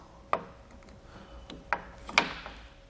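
A metal channel nut slides into a Yakima LockNLoad perimeter side rail, giving three sharp scraping clicks spaced about a second apart over a quiet background.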